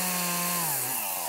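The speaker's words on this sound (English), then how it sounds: "chainsaw in hand, picking out the perfect tree for their home" A chainsaw runs steadily at a Christmas tree farm, its loud close engine whine holding pitch and then dropping as it bites into a tree's trunk, with no voices.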